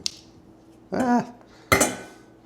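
A pot of ruby-red fruit compote handled in a kitchen while it is transferred to a jar, giving two separate clanking knocks of metal against hard surfaces about a second apart, fairly close and otherwise quiet.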